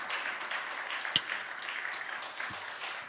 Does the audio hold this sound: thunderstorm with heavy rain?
no